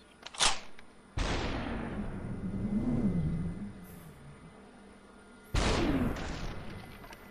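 Gunfire in the VR game Superhot: a sharp shot followed by two heavy booming blasts with long decaying tails, loud and close, spaced several seconds apart.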